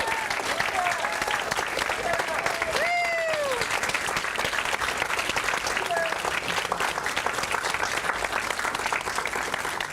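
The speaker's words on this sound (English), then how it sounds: "so we can give you a round of applause" Audience applause for the staff at a farewell event, a dense sustained roar of many hands clapping, with a brief voice rising above it.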